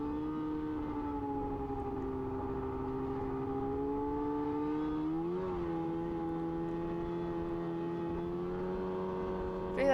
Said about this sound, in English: Like a whole mix of snowmobiles that were riding with us.